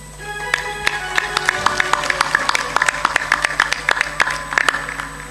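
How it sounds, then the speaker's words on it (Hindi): Loud applause from an audience at a Hindi spiritual discourse, with dense rapid clapping that keeps up steadily for about five seconds and swells slightly toward the end. "ताली जोर से बजाया करो।"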